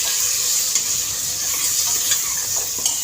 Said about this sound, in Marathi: त्यामध्ये एक अर्धा चमच हळद ॲड करूया छानाला मिक्स करून घेऊया